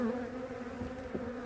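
A dense, steady buzzing drone of many honey bees in a colony, close and continuous with no talking.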